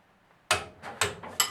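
A torque wrench clicks while tightening the cylinder head bolts on a Honda motorcycle engine, giving three sharp, close metallic clicks spaced about half a second apart after a short quiet pause.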